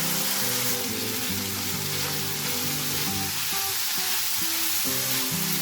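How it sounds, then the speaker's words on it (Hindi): Beef or mutton liver with salt, garam masala and roasted cumin sizzles steadily on a tawa over low heat, a dense continuous frying hiss with a low tonal hum running underneath. "थ्री टू 4 मिनट इसे भूनना है अच्छे तरीके से हल्की आंच पर।"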